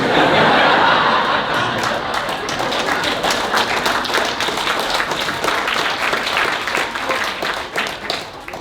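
Stand-up comedy audience breaks into sustained, dense clapping mixed with scattered chuckles and laughter, loud and close throughout, fading slightly near the end.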